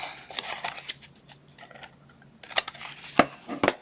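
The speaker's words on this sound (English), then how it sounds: "I am going to go ahead and cut just some of this bulk out" Scissors snip through paper while trimming excess bulk from a handmade paper matchbox, a scattered run of close, crisp cuts with short pauses between, louder toward the end.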